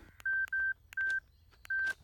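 Four evenly spaced touch-tone beeps from a telephone keypad as a number is dialed in a Tamil film scene, clear and close with short gaps, no voices.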